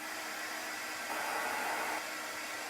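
A hair dryer blows steadily on chalk paste spread over wood, a close, even whoosh that swells slightly louder midway through, with no talking.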